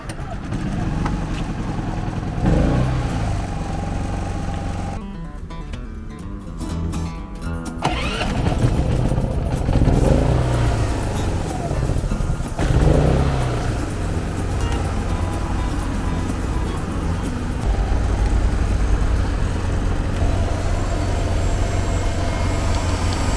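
An Apro petrol inverter generator runs loaded at about 4 kW, a steady loud mid-pitched engine drone throughout with a brief change in tone, and someone talks over it.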